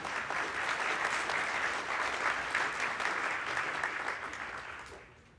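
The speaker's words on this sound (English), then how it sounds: "Please give a warm round of applause for the judges." A crowd at a startup pitch competition applauds the judges, steady dense clapping that holds for several seconds before tapering off at the end.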